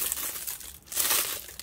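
Crinkly plastic packaging from a UV resin kit is torn open, giving close, bright, continuous crackling and rustling with a short lull partway through. No one talks over it.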